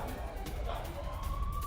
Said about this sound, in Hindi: आपको यहां पर सायरन बजते हुए सुनाई दे रहे होंगे।